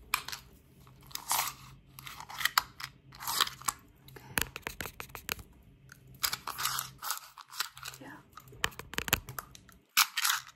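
Scissors cut hair in close, crisp snips and crunchy clusters during a fast, aggressive haircut, with brief quiet gaps between bursts.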